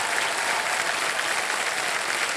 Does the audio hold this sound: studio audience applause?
yes